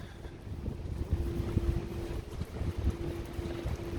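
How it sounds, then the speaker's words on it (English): Wind buffets a microphone during a rainy walk through central Stockholm, a low rumbling gusty roar with a faint steady tone running underneath, no voices. "Especially when it's windy."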